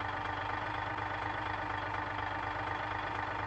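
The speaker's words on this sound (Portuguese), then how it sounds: "Motor de ônibus," Bus engine in the driving game BeamNG.drive, a loud steady droning rumble with a broad mechanical whine, running continuously without any talk.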